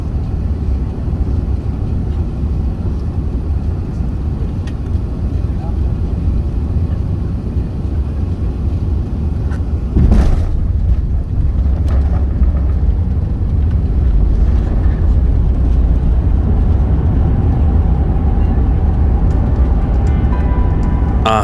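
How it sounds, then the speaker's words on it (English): Steady, loud roar inside the cabin of an Emirates Airbus A380 landing at Amsterdam, a continuous low rumble with a brief thump partway through as the wheels touch down, no voices. "I'll let you enjoy the beautiful landing"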